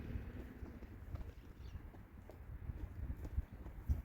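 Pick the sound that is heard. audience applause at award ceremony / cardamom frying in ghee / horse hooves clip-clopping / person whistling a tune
horse hooves clip-clopping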